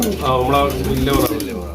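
Two male pigeons coo close by, a loud, throaty rolling call lasting under two seconds, with a voice mixed in.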